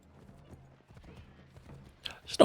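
Hooves clop in a quick, even rhythm as a horse is ridden in the Assassin's Creed III Remastered video game, fairly close and clear, ending in a louder scuffing burst.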